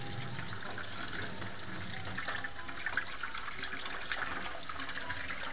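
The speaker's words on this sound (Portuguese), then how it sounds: "E agora a gente vai ter que pôr ele na água fria, né?" Cold tap water pours steadily over freshly cooked noodles for improvised yakisoba, a constant close gushing splash with no talking.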